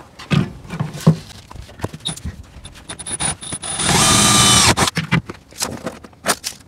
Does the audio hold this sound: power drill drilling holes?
yes